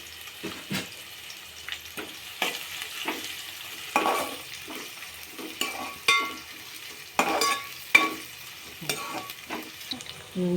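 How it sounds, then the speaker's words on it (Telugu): Thinly sliced onions fry in a pan, giving a soft continuous sizzle broken by repeated scraping stirs from a utensil, all heard close and without talking. "ఈ విధంగా వేగుతున్నాయి ఉల్లిగడ్డలు"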